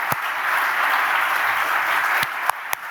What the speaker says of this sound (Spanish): Yo quería que les dedicáramos todos el último aplauso de esta sesión